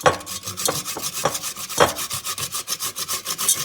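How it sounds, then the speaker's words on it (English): Butternut squash is grated on the fine side of a grater, close up, in quick repeated rasping strokes with a steady scraping rhythm and no talk. "I'm just going to grate it with the fine side of my grater."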